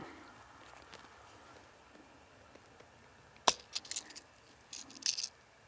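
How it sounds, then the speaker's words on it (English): An FX DRS air rifle magazine snaps into place with one sharp, close click. Faint handling clatter follows in an otherwise quiet field. "Pop this mag back in"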